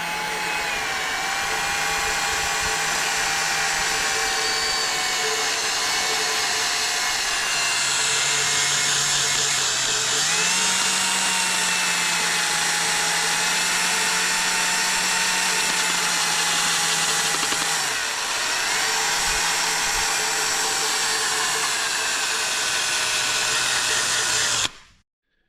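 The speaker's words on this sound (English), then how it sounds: "this is my first attempt at grinding aluminium" A power tool grinds a Honda K24 aluminium intake manifold smooth, a loud continuous high-pitched whine that dips and rises in pitch as the load changes, running alone for about 25 seconds before stopping.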